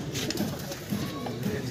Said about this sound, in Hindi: ये देखिए भाई कबूतर